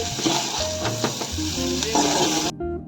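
Dried anchovies (nethili karuvadu) fry in a pan with a steady, loud, close sizzle and bubbling hiss, with occasional stirring scrapes mixed in, continuing throughout before cutting off abruptly.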